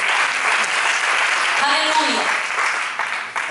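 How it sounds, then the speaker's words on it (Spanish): A church congregation applauds together, producing a broad wash of steady clapping, with a voice briefly rising over it partway through before the clapping begins to taper. "Vamos a dar un fuerte aplauso a nuestro Dios."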